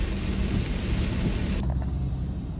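Steady rain patters around a parked Toyota Fortuner while waiting outside a service center in Las Piñas, a continuous broadband wash with low rumble, heard from inside the car and unbroken by voices.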